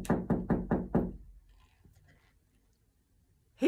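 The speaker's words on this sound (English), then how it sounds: "Next thing you know, he heard a knock." Five quick, evenly spaced knocks on a door, close and firm, followed by near silence.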